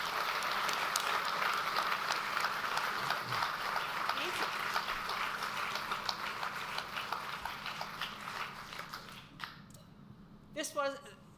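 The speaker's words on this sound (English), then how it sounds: "So let's give them all a big round of applause." Audience at a talk on nuclear power applauding the speakers, a sustained round of clapping that gradually thins and fades out, ending with a few scattered claps and brief room noise.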